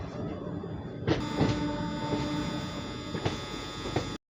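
Inside the Machilipatnam Express near Gudivada junction, a steady rolling rumble with periodic clicks and knocks from the wheels and carriage, fairly quiet and with no talk.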